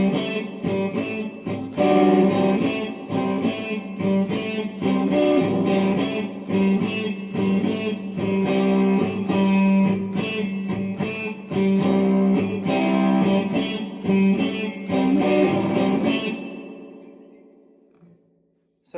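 Fender Stratocaster Player II, Mexican-made, with light nine-gauge strings, played electric with a driven tone: rhythmic strummed chords and picked notes for about sixteen seconds, loud and up front, ending in a ringing fade.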